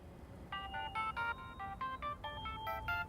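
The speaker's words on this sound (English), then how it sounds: "Oh, do we have a phone call?" An electronic phone ringtone for an incoming call in Dreamfall Chapters, a bright, repeating melodic chime of short tonal notes in quick rhythmic groups, moderately faint against a low background hum.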